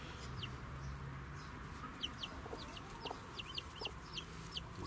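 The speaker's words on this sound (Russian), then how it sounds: "А, так это петух." Hens and a rooster with chicks in a new henhouse give off repeated short clucks in a loose rhythm, close by over a low, steady background hum.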